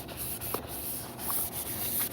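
Short rhythmic scuffing strokes of sandpaper rubbing a primed surface, close and fairly quiet, repeating steadily for a couple of seconds.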